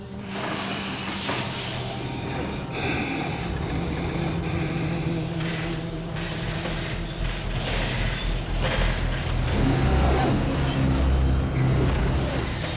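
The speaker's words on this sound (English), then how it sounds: "We can move the motion base around at any orientation that we want." A motion base on a film set moving and accelerating gives a continuous mechanical hiss and hum with shifting whirring tones and low rumbles that swell toward the end, heard alone without talk.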